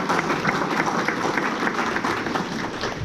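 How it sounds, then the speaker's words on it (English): Crowd applause at an Army Corps of Engineers new building ribbon cutting ceremony in Mobile, Alabama, a full, even wash of clapping sustained throughout, moderately loud with no talking over it. "A big round of applause."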